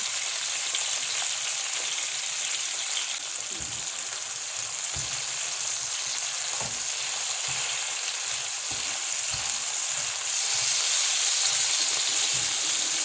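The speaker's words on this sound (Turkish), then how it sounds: "Aynı tavanın içerisine 3 adet orta boy doğramış olduğumuz biberlerimizi alalım." Three chopped medium peppers sizzle in a pan as a breakfast dish is cooked, a steady bright hiss broken by occasional stirring knocks and scrapes, close and continuous throughout.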